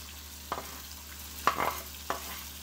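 Noodles stir-fried with pepper and garlic, a quiet steady sizzle with three distinct scraping tosses of the spatula in the pan, close and without talk.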